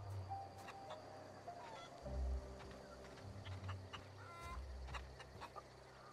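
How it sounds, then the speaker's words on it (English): A chicken in The Outer Worlds clucks in short, separated bursts at moderate distance, a few sharp calls spread over several seconds against a low ambient hum, with no talking. "Where's the chicken? I hear a chicken."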